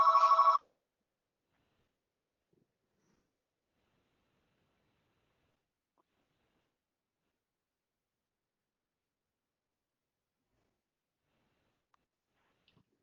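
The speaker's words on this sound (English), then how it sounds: "I don't have a way to shut off my fax machine." Fax machine on a telephone line rings once near the start with a short, loud burst of bell-like tones, then near silence follows for the rest of the stretch.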